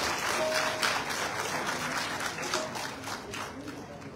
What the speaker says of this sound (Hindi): आइए हमारे स्वामी जी के लिए एक जोरदार तालियां हो जाए।